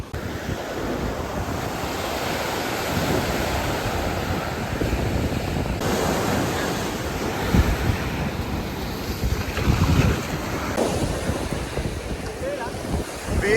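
Sea waves surge and wash continuously onto Yarada beach near Visakhapatnam, a broad, steady roar with occasional louder breaks, buffeted by wind noise on the microphone.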